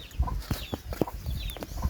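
Several chickens cluck close by in quick, overlapping bursts, with short sharp calls scattered through the brief stretch.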